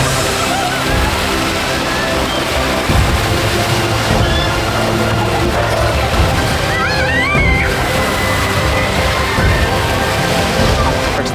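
Spinning water ride at LEGOLAND Billund, a steady loud rush of sloshing, churning water with constant splashing and background park noise that continues throughout.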